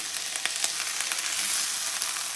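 Potatoes and caramelized onions pan frying in oil, a close, steady sizzle with small crackles and pops and occasional stirring, no voices.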